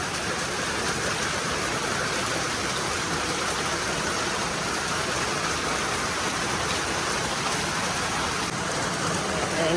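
Steady, heavy rain falls outside during a flood, a dense and unbroken hiss of water on surfaces that stays constant and fairly loud throughout, with no voices.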